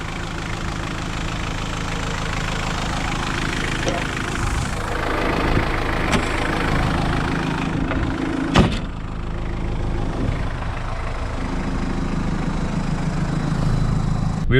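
A Mitsubishi L200 K74 engine runs steadily at close range with a continuous low rumble and mild swells in level.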